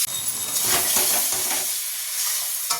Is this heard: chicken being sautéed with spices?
yes